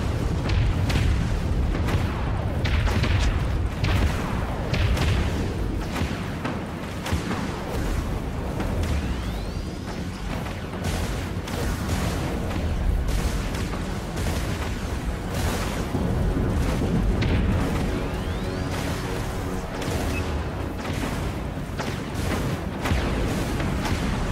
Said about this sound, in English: Enemy tech cruiser destroyed.